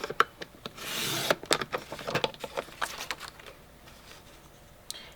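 A rounded-blade paper trimmer slides along scrapbook paper for a one-inch trim, giving a short scraping swipe followed by a scatter of light taps and rustles, close and fairly quiet.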